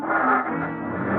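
A car engine roars as a getaway car pulls away in a crime drama scene, a steady, loud rumbling drive without voices over it.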